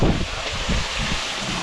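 Strong wind gusting outdoors at a cooking spot, a steady broadband roar with low rumbling buffets across the microphone throughout, loud and continuous with no voices.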